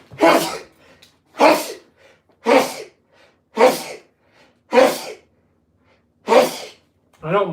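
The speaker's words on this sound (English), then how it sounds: "I don't mind sneezing." A series of seven sharp sneezes, close and loud, spaced roughly a second apart with quiet breaths between.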